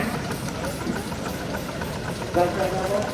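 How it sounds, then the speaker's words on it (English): A miniature Borough traction engine of 7 nominal horsepower design runs steadily while pulling a passenger trailer in a steam rally demonstration ring. Its even mechanical rumble is mixed with outdoor crowd noise. "It's a Borough traction engine called Atlas"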